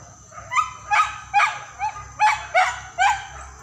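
Hunting dogs out after wild boar in the Solok forest bark and yelp in a steady run of about eight loud, honking calls, one after another, close by.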